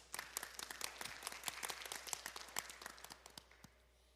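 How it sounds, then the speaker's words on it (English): Audience applause at a domestic violence town hall meeting: a steady patter of many hands clapping at moderate distance, fading slightly toward the end, with no talking. "Let's give her a round of applause."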